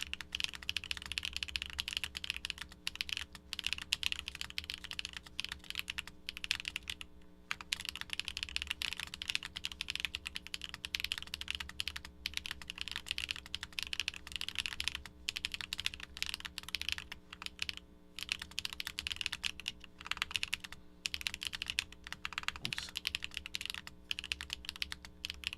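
Continuous typing on a HellCat Alice Mech-01 mechanical keyboard, dense clacking keystrokes at a steady fast pace over a low constant hum, close and fairly quiet, with no talking.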